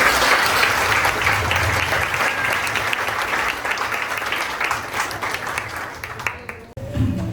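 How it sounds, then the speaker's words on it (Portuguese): A church congregation applauds during a Holy Supper service, dense sustained clapping filling the space and holding steady before tapering off near the end. "As palmas agradecem ao Senhor."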